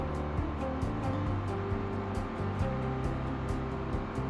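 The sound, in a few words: car engine revving in the video game Cities: Skylines 2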